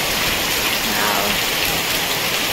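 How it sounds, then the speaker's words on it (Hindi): Heavy rain pours steadily in a village setting, a dense loud hiss of drops drumming on surfaces that fills the whole stretch without pause. "केते जोर वर्षा आरंभ हो जाए"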